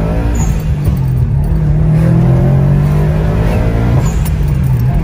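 A sports car in maximum sport mode revs hard with a steady, loud engine roar, and a few sharp exhaust pops break through near the start and again toward the end.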